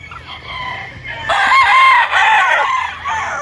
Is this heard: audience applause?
no